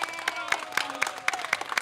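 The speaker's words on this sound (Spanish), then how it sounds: "Un aplauso para ella" Audience clapping in a studio setting, a brisk run of sharp, evenly spaced claps, fairly close and moderately loud, with no voices over it.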